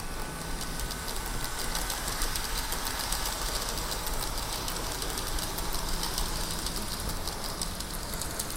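A continuous rattling, whirring run of a small Kato model train, a Class DF200 locomotive with 77 Series passenger cars, on track, steady and fairly quiet throughout with no pauses.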